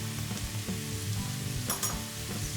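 Onion fries in a pan with cumin and paprika while being stirred, making a continuous, moderately loud sizzle with soft scraping and a couple of sharper crackles, without any talking.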